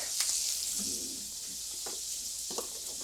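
Steaks searing in a hot cast iron pan give a steady, close hiss with a few brief clanks and shuffles of handling.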